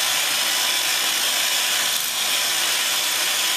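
Angle grinder fitted with a PadHead polishing head working on a piece kept flat, a steady loud high-pitched whirring hiss that holds constant and close throughout.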